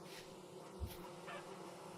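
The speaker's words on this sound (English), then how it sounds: "I hear bees." Bees buzzing in the Vintage Story video game, a quiet hovering drone heard faintly against soft ambient game sound, with one brief low thump partway through.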